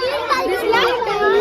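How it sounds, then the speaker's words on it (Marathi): Crowd of children and adults gathered at a tiger enclosure in a city zoo, children's excited voices and chatter filling the scene steadily and close by. "टायगर बघायला लहान मुलांसोबत मोठ्यांची गर्दी बघा"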